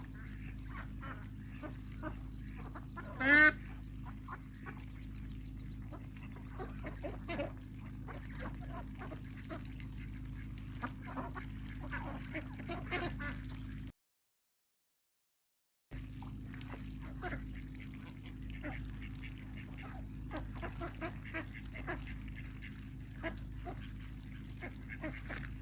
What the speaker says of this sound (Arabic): هذا من كبار البط من العمالقة.